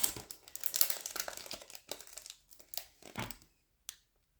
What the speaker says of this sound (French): j'ai retiré hors caméra le papier, ça fait trop de bruit